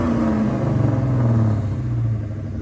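A 1992 Ford Mustang LX with a swapped engine idles steadily close by, a deep continuous rumble with slight rises and dips and no talking over it.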